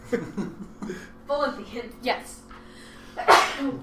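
A single sharp sneeze bursts out near the end, among chatty voices and chuckling at a tabletop role-playing game session, loud and close.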